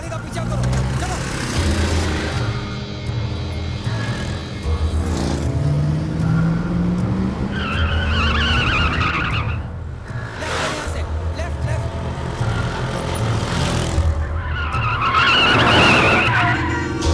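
A car chase in a Hindi police action film starring Akshay Kumar: engines roar and tires squeal in repeated skids, the sharpest bursts near the middle and end. All of it sits inside a dense, busy soundtrack mix.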